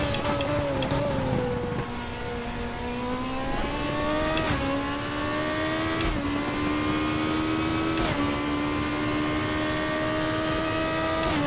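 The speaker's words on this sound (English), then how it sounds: "Enjoy the sound of the Formula 2!" A Formula 2 race car at Red Bull Ring in the RaceRoom sim racing game screams at high revs, its loud, steady engine tone rising and dipping through sharp upshifts and downshifts with no talk over it.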